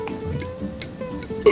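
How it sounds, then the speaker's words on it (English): A single drawn-out belch in a comedy sketch setting, fairly close and moderately loud, rumbling low for over a second before a brief sharper burst at the end. "please allow this belch"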